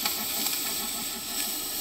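Steady, loud hiss of compressed air from an air compressor blown through the oil pump of a Cosworth XD turbo methanol IndyCar engine during a teardown, continuous and close with slight surges, no talk.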